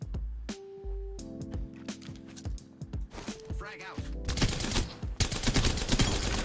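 Turbo Havoc energy rifle fire in Apex Legends solo mode, heard as several sharp bursts and sustained rapid volleys, loud and close, mixed with game effects and a steady hum.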